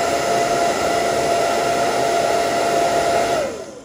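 A homemade VR wind simulator fan running on battery power blows with a loud, steady whirring roar and a high motor whine, then begins to spin down at the end. No one talks over it.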